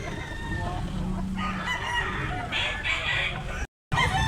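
A rooster crows amid busy outdoor noise and chatter, its call rising over the background before a brief dropout.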